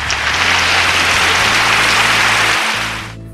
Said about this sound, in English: She begins clapping, slow at first, then faster and more vigorously